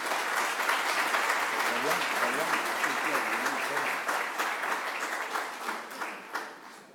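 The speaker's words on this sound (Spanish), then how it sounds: "Un aplauso para ellos entonces." Sustained audience applause at a labor and social security law congress held at a bar association, dense clapping that stays loud, then thins into separate claps toward the end, with voices mixed in.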